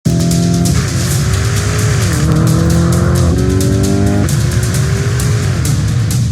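A Lamborghini Urus Performante races up Pikes Peak, its engine roaring loud and close while the revs rise and fall through the corners, and its tires squeal repeatedly.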